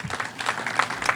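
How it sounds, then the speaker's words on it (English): A brief burst of audience applause for a county executive at an event for a computing institute, a short steady patter of many hands clapping. "So if we could give Mark, our county executive, a round of applause"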